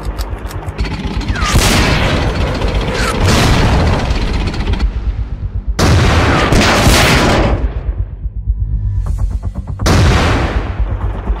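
Cartoon tank cannons fire in loud, booming bursts, three heavy volleys of blasts with crackling gunfire spaced a few seconds apart, rolling rumble between them.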